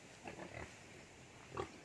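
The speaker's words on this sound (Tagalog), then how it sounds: "malalakas ang ating mga native na baboy." Native pigs give two short low grunts close by, separated by a quiet pause against a soft farmyard background.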